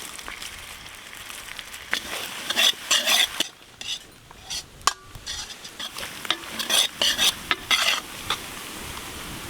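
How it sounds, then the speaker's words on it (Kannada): Garlic, green chillies and curry leaves fry in hot oil for village-style pork 65, with a steady crackling sizzle and intermittent scraping stirs of a spoon against the pan, close and fairly loud. "ಬೆಳ್ಳುಳ್ಳಿ ಎಲ್ಲ ಇಷ್ಟು ಫ್ರೈ ಆಗಿದ್ರೆ ಸಾಕು"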